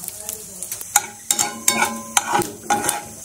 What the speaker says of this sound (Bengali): এবার কড়াতে দিয়ে দেবো সরিষার তেল, 5 ফোড়ন, শুকনো লঙ্কা।